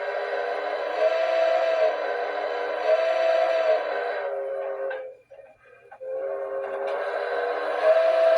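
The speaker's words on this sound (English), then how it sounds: "One nice surprise was this has a smoking whistle." A smoking whistle on a Pere Marquette Berkshire 1223 model steam locomotive blows in long sustained tones with a brief break, steady and close, with no talking.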